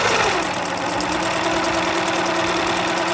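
A sewing machine stitching a zigzag seam on t-shirt fabric makes a fast, even mechanical whirring hum, close and steady for a few seconds, with no talk.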